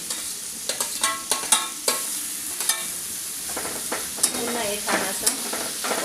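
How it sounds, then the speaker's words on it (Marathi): Leftover vegetables like tomato, carrot and cucumber sizzle in a pan for a leftover rice dish, with repeated sharp clinks of a spoon stirring and scraping over a steady frying hiss. "परतवून घेऊया"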